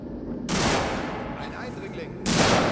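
Rapid bursts of gunfire crackle in Alien: Isolation, a sustained volley followed by another loud burst near the end.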